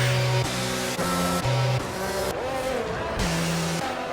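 Race cars in a racing video game, some running without front wings, scream down the straight, their loud, high-revving engines overlapping with pitch shifts and gear changes as several cars pass close by in quick succession.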